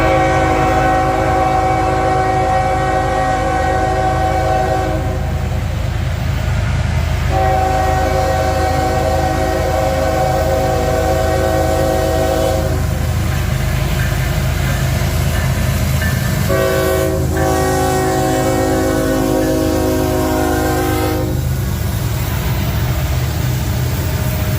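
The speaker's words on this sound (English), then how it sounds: "I hear a train horn." A train rumbles steadily nearby in the town of Heflin while its horn sounds in several long, loud blasts, with pauses between them.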